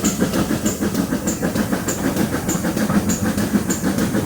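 A steam train on the Bodmin Steam Railway runs steadily alongside, with rhythmic clickety-clack of wheels over rail joints and a constant hiss of steam, loud and close throughout.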